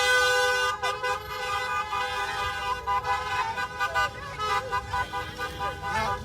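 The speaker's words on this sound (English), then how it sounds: "We still have youth blasting their horns." Youths in the EndSARS memorial car procession at Lekki Tollgate blast their car horns continuously in overlapping sustained tones, punctuated by short toots, over traffic noise and voices.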